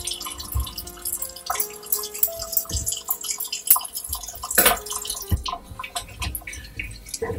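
Tap water running and dripping into a bowl while felting wool, a busy splashing patter with irregular drips throughout, close and fairly loud, no voices.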